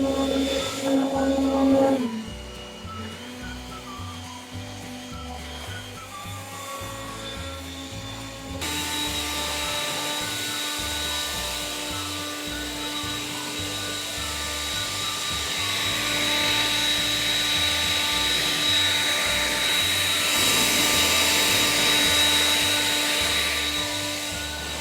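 Leaf blowers from Bosch and Falke running in a garden, a loud steady motor whine with a constant high tone, which changes abruptly in pitch and texture partway through and then holds a sustained roar to the end.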